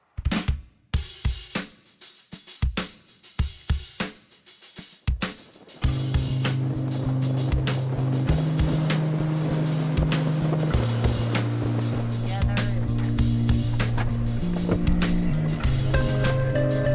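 Knocks and clatter give way to a steady drone as a fishing boat motors across a lake, loud and close with wind and water rushing around it.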